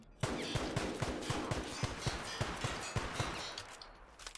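Rapid bursts of auto mag pistol fire in The Outer Worlds, evenly spaced sharp shots repeating for several seconds, loud and close over a dense game soundscape.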